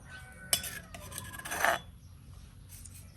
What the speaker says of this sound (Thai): ผสมลงไปในเหยื่อล่อเลยนะครับ